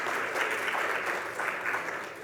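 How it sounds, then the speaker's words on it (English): Brief applause from a healthcare conference audience in the Cayman Islands for sponsor Iron Shore Pharmaceuticals, a soft, even patter of clapping that stays fairly distant and tapers slightly at the end. "Big round of applause for Iron Shore"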